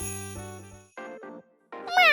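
A kitten meows repeatedly, several short high mewing calls close by, with the last rising cry the loudest, over a faint tonal background hum at the start.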